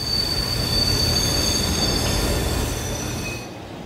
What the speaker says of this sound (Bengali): ঠিক তখনই ট্রেন ডোভার টাউনে এসে থামল।